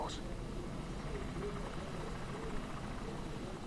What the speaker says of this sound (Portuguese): porque vai passar um helicóptero aqui